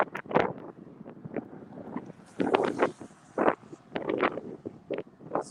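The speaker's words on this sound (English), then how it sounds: "There is some wind, unlike last year." Gusty wind buffets the microphone during a car ride across the Seven Mile Bridge, coming in repeated bursts of rough, low rumbling with quiet gaps between them.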